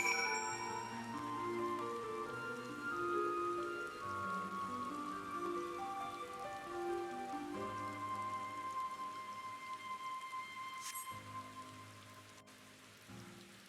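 Steady rain falls in the video game Final Fantasy XIV: Endwalker, a soft, continuous patter sitting quietly beneath sustained game music chords that shift every few seconds.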